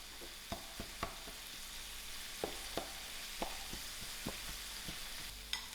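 Lamb mince sizzles steadily in a frying pan while a spoon breaks up lumps and mixes it, sharp scraping knocks landing every half second or so over the constant crackle.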